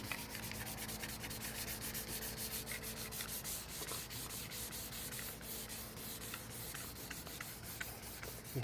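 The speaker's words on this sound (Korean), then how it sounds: "페인트를 뿌려줄 부분에 샌딩을 해주도록 할게요" By hand, a Hyundai Equus bumper is sanded before painting, producing quiet, rapid back-and-forth scratchy strokes in a steady rhythm that continue throughout without talk.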